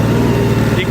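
A John Deere 5310 GearPro tractor engine held at full revs around 2100–2200 rpm, a steady loud low diesel drone that stays constant throughout with no break.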